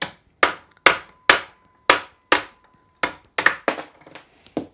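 A ball peen hammer strikes metal about a dozen times in sharp, ringing blows while fitting a part on a gearbox, evenly spaced at first, then quicker and lighter toward the end.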